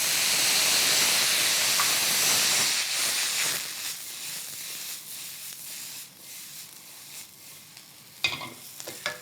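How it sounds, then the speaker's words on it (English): Water poured into hot oil over roast potatoes sets off a loud, dense steam hiss and sizzle that slowly dies down to a quieter crackle, then brief clatters near the end. "we're gonna scald the potatoes with some water. What this does is it creates a steam"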